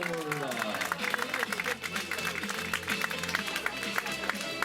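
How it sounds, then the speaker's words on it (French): A crowd claps steadily at the prize-giving for a 5 km road race, the Corrida de Seurre, with music and voices underneath throughout. "Applaudissements pour Marie-Paul"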